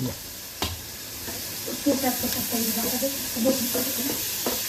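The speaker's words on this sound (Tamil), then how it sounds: "Once this is briefly sauteed, we'll mix in yogurt" Ingredients sauté in a pan for a yogurt pachadi, a steady hissing sizzle with a few stirring knocks while a person talks quietly over it.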